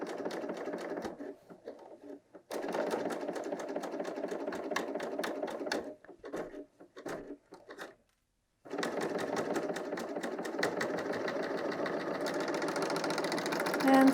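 A Bernina L 890 sewing machine stitches knit fabric in steady bursts of rapid mechanical whirring, pausing briefly between runs as the fabric is turned, then running continuously to the end, close and fairly loud.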